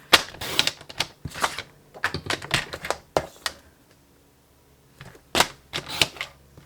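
Paper being trimmed on a papercraft treat pouch project, with a scatter of crisp close snips and rustles in short bursts separated by a brief pause.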